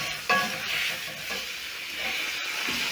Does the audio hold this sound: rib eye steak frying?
yes